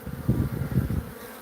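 Honey bees buzz inside a small hive, a dense, close, continuous low hum that swells in two louder pulses before easing off, with no voices.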